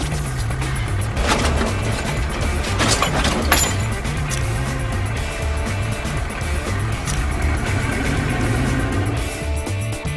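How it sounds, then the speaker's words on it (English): Tow truck engine with a lifting rig, a steady low rumble heard throughout, joined by clanking, rattling metal bursts near the middle. "The tow truck lifts the front or back of the car off the ground."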